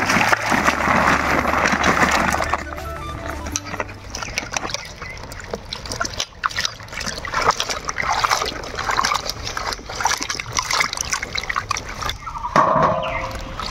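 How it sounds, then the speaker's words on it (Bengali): Fresh vegetables, including pointed gourd, washed in clean water for cooking luchi and a mixed vegetable dish: continuous splashing and trickling water with handling noises, steady and close throughout. "সবজিগুলা পরিষ্কার জল দিয়ে ভালো করে ধুয়ে নিব"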